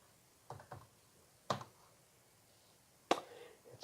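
A few keys pressed on a computer keyboard: three separate, crisp clicks spaced about a second or more apart, close and fairly quiet, with no talking.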